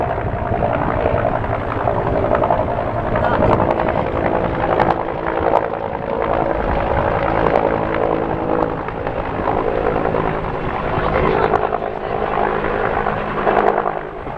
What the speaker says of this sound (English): Helicopter coming in towards Trail Quest.